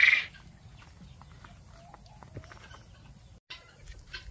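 Bantam chickens cluck softly in a backyard subtropical food forest, producing faint, scattered clucks and small calls against quiet outdoor background, with a brief sharp sound at the start and a short dropout near the end.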